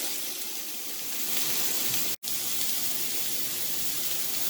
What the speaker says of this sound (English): Or, better yet, on here you sear them